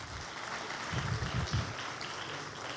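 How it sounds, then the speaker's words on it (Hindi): Audience applause at a motivational talk in Pune, a short burst of clapping swelling in the middle of the clip over a steady hall background, moderately loud and without speech. "उनके लिए जोरदार ताली होनी चाहिए।"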